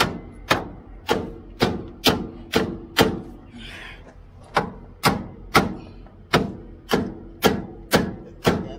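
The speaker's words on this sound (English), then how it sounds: "Is just hammering these out" Steady, evenly spaced hammer blows ring out on metal drag link parts of a Freightliner Cascadia truck, about two per second, with a short pause midway; loud and close, no speech.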